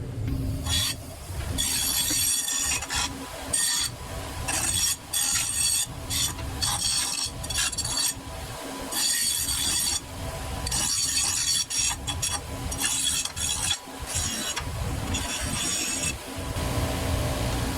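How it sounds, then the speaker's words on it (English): An angle grinder works the cut edges of a Buick tail light bucket's metal body panel, making a loud, harsh grinding screech in repeated bursts with brief pauses as the disc is lifted and pressed back onto the metal. "I'll clean these edges up a little on the grinder."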